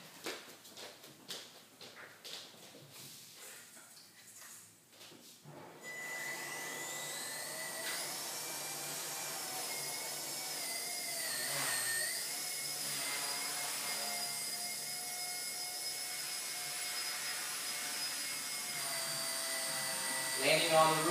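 A Blade Nano CPX small RC helicopter flying indoors: a few seconds of scattered clicks and knocks, then a steady, high electric rotor whine that keeps going and rises slightly near the end.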